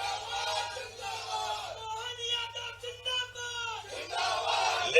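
Crowd at a political rally for Narendra Modi in Madhya Pradesh chanting zindabad, a steady mass of voices with rhythmic swells, loud and continuous across the whole stretch.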